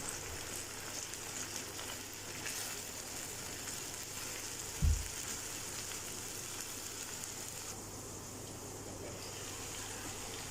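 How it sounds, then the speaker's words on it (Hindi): Grated carrot and chopped green chilli frying in a pan over a medium flame, a soft, steady sizzle throughout with one short knock near the middle. "मीडियम फ्लेम पे इसको फ्राई कर लेंगे।"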